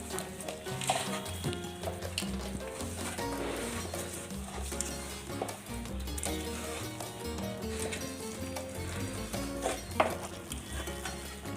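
A sweet arisalu mixture with cardamom powder is stirred in a pan, giving a steady scraping and soft sizzle that sits under loud, continuous background music.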